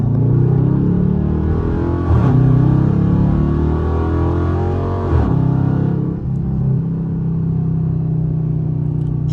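Dodge Charger with a loud aftermarket exhaust cruising in evening traffic, a deep, steady droning rumble from inside the car, swelling briefly around a couple of gear changes or throttle blips.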